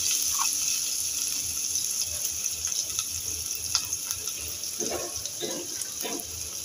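Chopped onions fry in hot oil, giving a steady close hiss with scattered soft crackles and a few louder pops toward the end.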